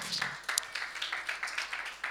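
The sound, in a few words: church congregation applauding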